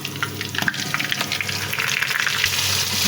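Meat fries in oil with onion, cardamom, cinnamon and cloves, a loud, close, continuous sizzle with bubbling crackle and faint stirring scrapes.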